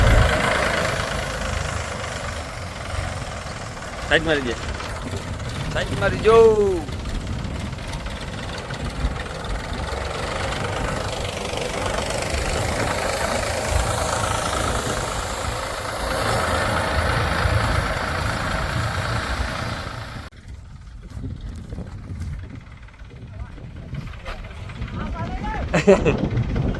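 A tractor engine idles and runs at a farm field where groundnut is being sown, a low, steady mechanical drone under nearby talking voices, with a quieter stretch near the end.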